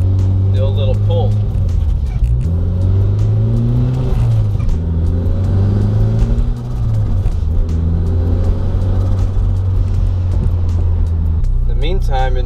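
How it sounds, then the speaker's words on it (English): A Toyota MR2 turbo engine pulls hard, its steady rumbling note rising and falling with accelerating revs and turbo noise, close and loud under a voice talking. "enjoy the turbo noises"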